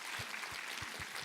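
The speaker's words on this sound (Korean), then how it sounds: "우리 하나님께 감사와 영광의 박수 올려드리겠습니다." Congregation applauding during a Sunday church worship service, a steady wash of hand claps with a few heavier low thumps spaced through the short stretch.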